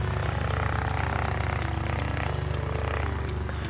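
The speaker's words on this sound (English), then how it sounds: "luckily that airplane is taxiing away so you can hear me a little better right now" Airplane taxiing at an airport, a steady propeller-engine drone with a sustained low hum and tonal whine, fairly close and continuous, no voices heard.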